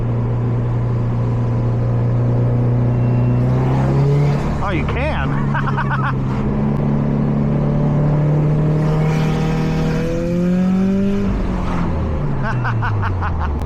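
A tuned 2006 Subaru WRX STI revs while brake boosting, its engine note climbing in two surging runs over a steady idle, close and loud, with people talking over it.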